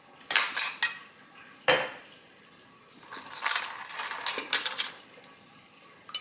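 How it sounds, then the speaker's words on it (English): A garlic, onion and cumin mixture being whisked with a metal utensil, with sharp clinks and rapid scraping against the bowl in uneven bursts, close and fairly quiet, with pauses between strokes. "And we're just going to mix it up now. Whisk, whisk, whisk."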